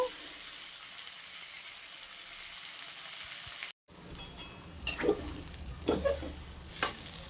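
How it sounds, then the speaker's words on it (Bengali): Onion, ginger, garlic, cumin and spice powders frying in oil for a Bengali fish curry, a soft continuous sizzle with occasional stirring scrapes and clinks of a spoon against the pan. "এইবার এটাকে খুব ভালো করে আমি কষিয়ে নেব"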